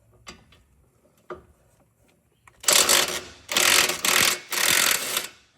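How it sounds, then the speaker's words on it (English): An 18 mm wrench works loose the upper ball joint nut on a lifted Chevy Tahoe's front suspension: a couple of faint taps, then three loud rasping bursts of ratcheting close by. "Now we're going to use an 18 mil to take our upper ball joint nut off"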